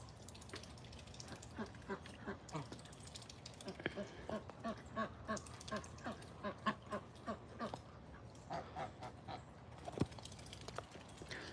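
Rescued pet ducks kept on a farm give a run of repeated quacks in a rhythmic series, soft and somewhat distant under a faint outdoor background, with no clear talking.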